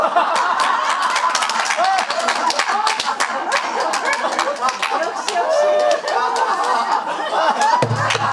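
An audience at a pansori recital claps steadily before a Chunhyangga performance, dense continuous applause mixed with chuckles and scattered chatter, cutting off abruptly at the end.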